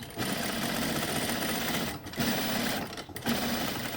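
A sewing machine runs fast and loud close up as it hems a fabric face mask, a steady buzzing hum with two brief pauses between stitching runs.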